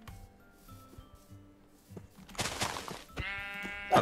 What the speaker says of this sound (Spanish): Mira las ovejas que hay aquí